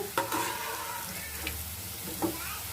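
Bitter gourd pieces frying in hot oil make a gentle sizzling hiss, with a few scraping and clinking touches of a ladle, close and fairly quiet.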